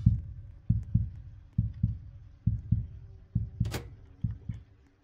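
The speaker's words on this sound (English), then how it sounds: "Bro, the heartbeat got inside my ears" A video game heartbeat thumps in loud, deep double beats, about ten pulses in a steady rhythm, with a brief bright game noise cutting in midway.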